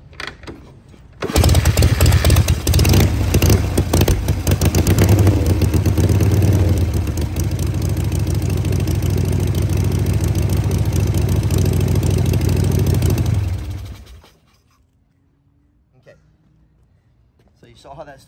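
A Harley Super Glide engine is kick-started and fires up, settling into a loud, close, rumbling idle for about twelve seconds before cutting off. A voice talks quietly near the end.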